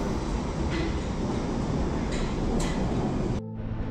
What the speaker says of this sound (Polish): Jazda metrem jest zawsze wchodzeniem w nerw miasta.